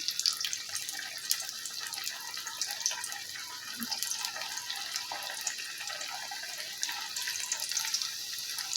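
Puris, the puffed Indian fried bread, cook in hot oil with a steady, close frying sizzle and crackle that runs unbroken for the whole clip, with no voices.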